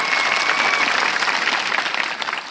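Loud, dense applause from a rally crowd at a birth-anniversary celebration in Poshina taluka, steady sustained clapping throughout with no speech over it.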